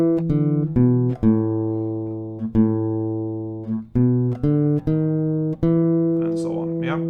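An acoustic guitar slowly plays a riff, with distinct plucked notes ringing out one after another at an unhurried, steady pace, up close and clear with no talking.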